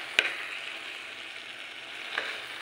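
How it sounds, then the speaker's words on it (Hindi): Onion masala being stirred and fried in a pressure cooker for black chana curry, a steady soft sizzle with a sharp scrape of the spoon at the start and another faint scrape near the end, no talking. "इसको अच्छे से हम लोग मिलाएंगे और अच्छे से भूनेंगे"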